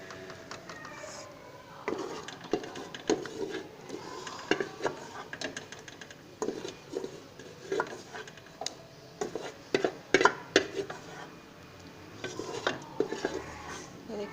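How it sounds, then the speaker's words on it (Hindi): Beef mince for a matar keema dropped into a karahi and stirred, a spoon scraping and clinking against the metal pan in irregular, close knocks with no talk. "अब हम कढ़ाई के अंदर कीमा डाल देंगे"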